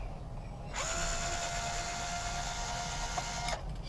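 A small electric screwdriver with a Torx bit whirs steadily for about three seconds while backing screws out of a wireless access point being scrapped, close and fairly quiet, starting and stopping sharply.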